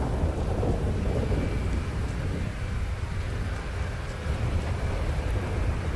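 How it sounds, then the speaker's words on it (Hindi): Deep, continuous rumbling thunder in GTA V rolls on without a break, heavy and close, with a steady rain-like hiss layered over it. "थंडरिंग बहुत ज़्यादा हो रही है गाइस।"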